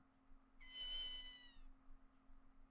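A cat in the video game Ghost Trick gives a single soft, drawn-out meow, fairly close, over a low steady hum with no talking.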